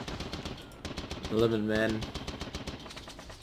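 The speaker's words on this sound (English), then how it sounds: "Probably the machine gun the guys out in the open" Machine gun fire in a World War I strategy video game set in East Prussia, 1914: rapid, steady bursts of rattling shots running throughout at moderate loudness, with someone talking over part of it.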